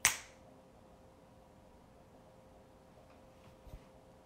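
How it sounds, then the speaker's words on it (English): A single sharp finger snap cracks at the very start, close and crisp, followed by near silence with a faint low hum and a couple of soft ticks. "I'm going to count to three, and then I'm going to snap my fingers, dispelling all fear"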